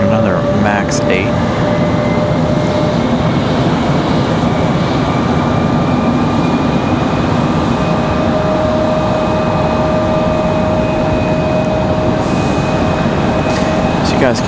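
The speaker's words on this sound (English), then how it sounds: "You guys can hear that E-175 just below us, starting engines already." An Embraer E-175 jet starts its engines on the ramp at Raleigh-Durham International Airport, a loud, steady turbine whine and roar with sustained tones, heard from just above with voices mixed in.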